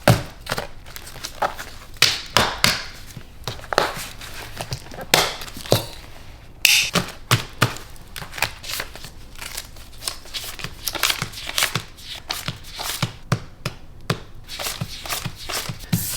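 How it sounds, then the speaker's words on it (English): Cash bills are handled and stuffed into paper budget envelopes up close, with frequent sharp papery rustles, flicks and slaps in an irregular rhythm, no voice heard. "it's time to stuff my cash envelopes"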